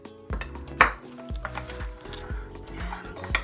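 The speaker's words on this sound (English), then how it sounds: "put some of our peanut sauce in there and stir everything together" A spoon stirs peanut sauce into a chicken salad in a bowl, making repeated clinks and scrapes against the dish in an uneven rhythm. One sharper clatter stands out near the start.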